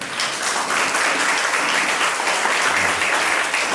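A school audience applauds a PTA president at an arts celebration event, steady dense clapping filling the room at a consistent level throughout, with no talk over it.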